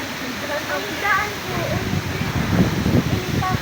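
Typhoon Kristine floodwater rising to the roof and rushing around a house, heard as a loud, continuous watery roar with surging turbulence, while faint voices come and go beneath it.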